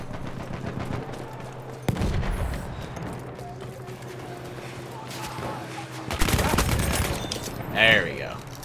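Rapid bursts of gunfire and distant booms in a Battlefield 1 online Team Deathmatch at Fao Fortress, dense crackling volleys with louder blasts near the middle and end, a busy battle din throughout.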